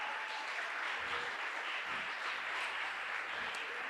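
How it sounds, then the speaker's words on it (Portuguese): A church congregation claps for the Lord in a strong, sustained burst of applause, steady and fairly loud throughout, with a few faint background tones beneath. "Vamos dar um forte aplauso ao Senhor."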